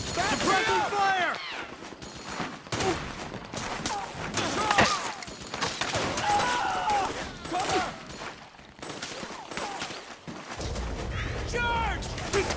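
Suppressing gunfire in the Metal Gear Solid 4 video game, dense bursts of automatic fire and shots running through a chaotic battle, loud and continuous with shouting voices mixed in.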